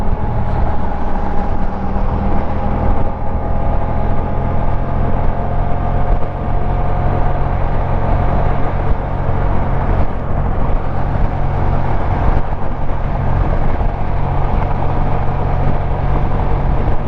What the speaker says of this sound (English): And I could hear a lot of noise from the trucks here.